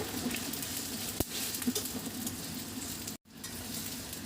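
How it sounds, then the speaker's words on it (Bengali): Ginger, garlic and tomato frying in a pan on a gas stove while pasta is being cooked, a steady close crackling sizzle with a couple of sharp stirring clicks and a brief gap near the end. "এখন আমি আদা রসুন আর টমেটোটা দিয়ে দিলাম।"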